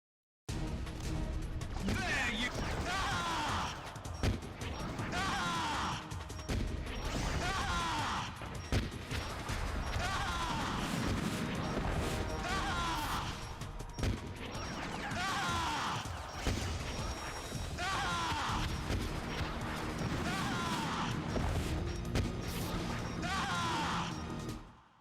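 Gunfire in Metal Gear Solid: The Twin Snakes on GameCube, repeated bursts of shots and crashing impacts at a regular pace, loud and dense, mixed with game noise.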